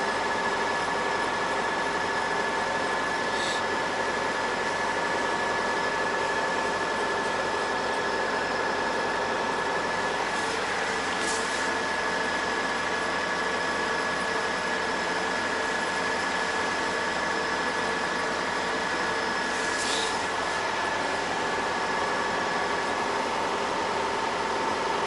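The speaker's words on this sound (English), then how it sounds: "I think it's just the AC making that noise" Truck air conditioner running, a steady faint mechanical drone with a constant whine, plus a few brief clicks and ticks, with no voices.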